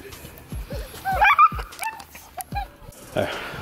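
A husky that has slipped loose barks and whimpers in short yips and whines, several bursts close by and fairly loud, mixed with other background noise.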